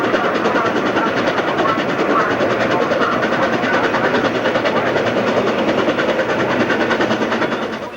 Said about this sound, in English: The train arrives in Centralia.